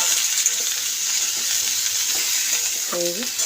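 Spices and a fish curry base for a cauliflower fish stew sautéed in a pan, giving a steady close sizzle with faint stirring scrapes and a brief voice near the end.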